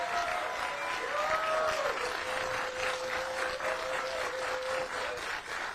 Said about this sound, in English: So a round of applause for everybody coming out today.